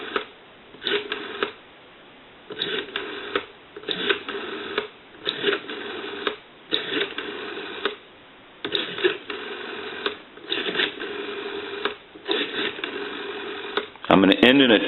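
A Mickey Mouse rotary dial telephone being dialed produces repeated bursts of rapid clicking pulses as each number returns, separated by short pauses, heard close through a line-like, band-limited channel, with a louder burst at the end.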